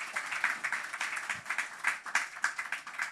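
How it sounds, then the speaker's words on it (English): An audience at a COP28 food systems panel session claps for the panelists: a brief, moderately quiet round of scattered, steady hand claps. "Just a round of applause for the effort of the panelists."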